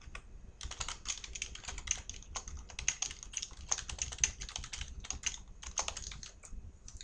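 Steady typing on a computer keyboard while entering PHP code, a continuous run of light, close key clicks in quick irregular bursts with brief pauses, no voices.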